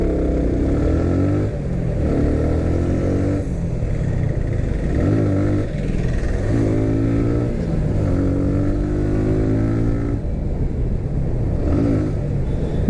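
A 2017 Suzuki Gixxer SF motorcycle engine drones steadily while riding, its pitch climbing and dropping through repeated rev sweeps and gear changes, loud and close throughout with constant wind and road noise.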